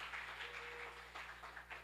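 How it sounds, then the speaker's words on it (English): An audience at a tech event on Web3 and AI claps for a woman who has just presented, quiet and fairly distant applause that stays steady before thinning slightly toward the end. "I want everybody to give her a big hand of applause for what she's doing right now"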